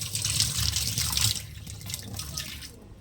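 Green chillies are rinsed under running tap water. A short, close splashing flow lasts about three seconds before it eases off.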